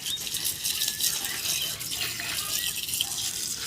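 Running water splashes steadily while latex rubber is rinsed off, a constant close gush with faint brief voices in the background.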